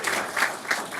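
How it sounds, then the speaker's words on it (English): Short burst of audience applause at an honoree event, brief dense clapping that swells in a few quick waves, near and fairly loud. "So give them a round of applause,"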